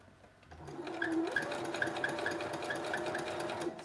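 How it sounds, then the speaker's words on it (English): A sewing machine stitches a seam in a red dress, its steady mechanical whir and rapid needle clatter running continuously at close range, with faint rhythmic ticks over the motor hum. "I'm gonna start backstitching now"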